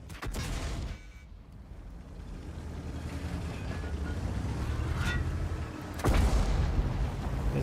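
Heavy tank cannon booms go off twice in a video game, World of Tanks with the Object 279, loud and close, over a constant low engine rumble.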